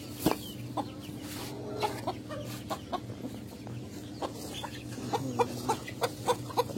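Colombian Light Brahma chickens cluck close by in a farm setting, short repeated clucks and calls over a low steady background hum.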